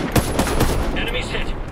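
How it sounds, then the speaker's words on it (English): A quick burst of squad gunfire in the tactical shooter Ghost Recon Breakpoint, several sharp shots in rapid succession up close. "As soon as we fire here, he'll be killed."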